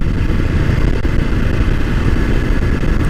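A Royal Enfield Himalayan 450 motorcycle on the move gives a steady, loud low engine drone with a faint rumble, continuous and close, with no speech.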